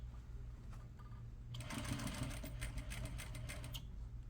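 A sewing machine stitches a set-in sleeve seam, its fast, fairly quiet mechanical whir starting after a soft lead-in and running steadily to the end.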